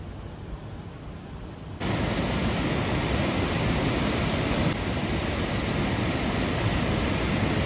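Water thunders through two open gates of the Girna dam near Malegaon, Nashik: a steady, loud, broadband roar that swells in after a quieter first two seconds and then holds constant, with no talk.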